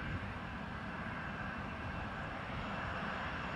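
Steady jet engine roar of an Azul Airbus A320-251N at the airport, a broad continuous rumble holding at constant loudness from start to finish with no voices.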